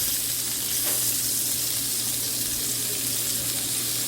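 Mini meatballs fry and get rolled over in a hot pan, with a steady, close, even sizzle and crackle that runs without pause and with no talk over it.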